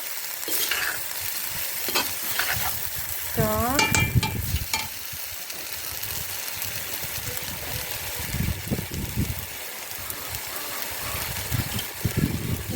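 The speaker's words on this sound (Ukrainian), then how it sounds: "Перемішуємо. Так. Теж слідкуємо, щоб нічого не пригоріло." Mushrooms for mushroom soup are stirred as they fry in a pan, with a steady close sizzle and repeated scraping strokes running the whole time and a few brief squeaky tones early on.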